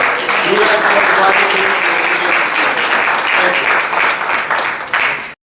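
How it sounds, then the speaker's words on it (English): Sustained audience applause at an education recognition ceremony, dense and loud clapping with some cheering voices mixed in, cut off abruptly at the end. "one last round of applause for"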